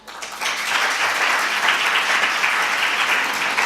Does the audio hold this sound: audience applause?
yes